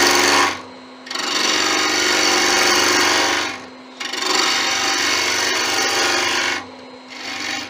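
A wood lathe turning a wine bottle stopper blank while a tool rounds it off, giving a loud, steady close hissing scrape in two long sustained passes separated by brief pauses.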